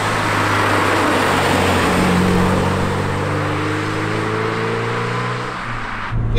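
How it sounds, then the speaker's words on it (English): A Porsche 944 Turbo pulls hard in second gear, its engine note climbing steadily and loudly from inside the car, then easing off near the end. "the second gear acceleration is divine"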